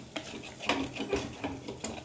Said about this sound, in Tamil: சேர்த்து இதையும் நல்லா மிக்ஸ் பண்ணி விட்டுடலாம்